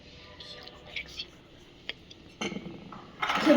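A spoon stirs a homemade clay mixture of rice flour in a bowl, giving quiet, scattered clinks and scrapes that grow louder and denser toward the end.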